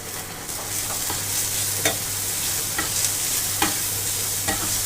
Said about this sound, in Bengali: হালকা একটু ভাজা ভাজা করে নেব এটা কিন্তু গ্যাসটা একদম সিম করেই করব